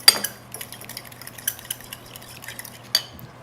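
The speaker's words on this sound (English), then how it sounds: "soy sauce, a little bit of chili flake for that bite. This is like American stir fry. And some sugar. And we just whisk this together." Soy sauce, chili flake and sugar whisked together in a bowl: quick light metallic clinks and scrapes in an irregular rhythm, close and fairly loud, with a couple of sharper taps.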